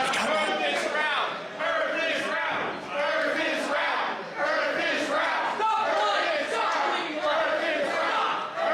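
A large crowd booing loudly in sustained, rolling waves of massed voices that swell and dip together, with no pause across the stretch.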